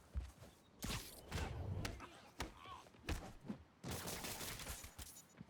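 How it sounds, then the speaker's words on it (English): Gunfire in the video game Marvel's Spider-Man Remastered, several loud sharp bursts and single shots spread across the stretch amid busy game noise, with a voice briefly talking. "Stop shooting near civilians"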